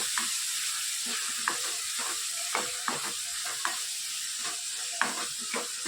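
A spiced vegetable mixture sizzles in a pan under a steady hiss. Spoon scrapes and taps sound near the pan at a loose, regular pace.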